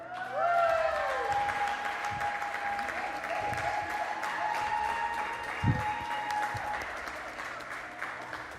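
A church congregation gives sustained applause that fills the room, holding at an even level for several seconds, with a faint tone and scattered thumps beneath the clapping.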